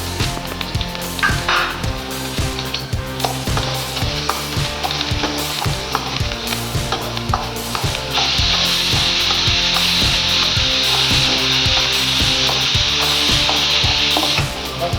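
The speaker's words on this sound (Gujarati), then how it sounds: "આવું બધું વઘાર પહેલાં તેલમાં નાખી દઈએ" Loud, continuous sizzling of spices in hot oil, with rhythmic stirring knocks throughout and the hiss growing brighter partway through.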